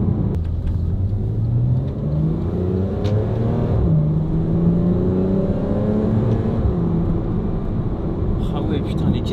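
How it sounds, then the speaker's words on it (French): The engine of a track-prepared Porsche Cayman R drones steadily from inside the cabin, its pitch rising and falling as it accelerates, with people talking over it. "D'intérieur, on a vraiment le bruit du moteur juste là, et on n'a pas l'échappement."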